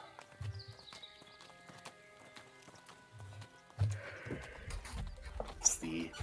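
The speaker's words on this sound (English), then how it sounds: "It's the sound of passing wagons, passing groups." Horse-drawn wagons roll past on a dry road, hooves clip-clopping in bursts with creaking movement and an occasional whinny, growing louder and busier toward the end while voices murmur underneath.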